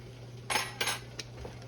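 Pasta shells in meat sauce stirred in a pot, giving a few short scraping clinks of a utensil against the pot, close and fairly faint, with a steady low hum underneath.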